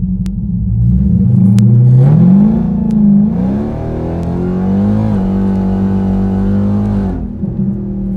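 A 1000hp Dodge Hellcat in street mode on big rear tires accelerates hard from a launch on a public street. A loud, deep engine roar climbs through the revs, with a brief gear-change dip before another sustained pull.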